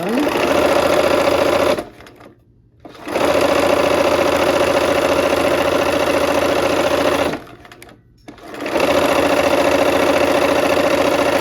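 A sewing machine runs loud and close in long steady whirring stretches while sewing stacks of fabric, stopping twice for brief pauses before starting again.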